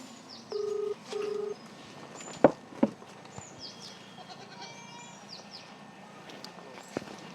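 Two short electronic phone-dial tones beep in quick succession, followed by a couple of sharp clicks, all over a quiet background hum.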